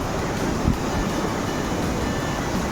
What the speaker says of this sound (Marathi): हा आमच्या एरियावर सर्वात मोठा धबधबा आहे